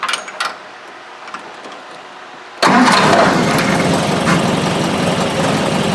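A Triumph Spitfire engine, heard from inside the car, cranks briefly after a few quiet seconds and then catches abruptly, settling into a loud, steady idle that continues to the end.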